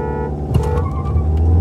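During a drag race between an XUV500 and a Hyundai Verna, a car in manual mode launches hard: a close, loud engine rumble swells into a sharp revving burst, then keeps roaring.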